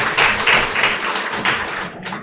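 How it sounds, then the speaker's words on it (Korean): A church congregation claps loudly to welcome a newcomer during a Sunday service, with dense, uneven clapping running for a couple of seconds before it fades. "한번 일어서 주시면 큰 박수로 환영하도록 하겠습니다."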